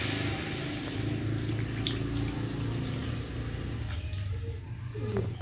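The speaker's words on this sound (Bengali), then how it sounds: "তারপরে এই যে আমি এর মধ্যে দিয়ে দিচ্ছি জল" Water poured from a vessel into a pan of taro curry cooking on the stove, a steady soft splashing trickle running for several seconds, fairly quiet and close.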